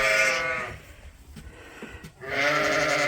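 Sheep in a barn during lambing season bleat loudly and close by, two long wavering calls at the start and end with quieter shuffling and faint bleats between them.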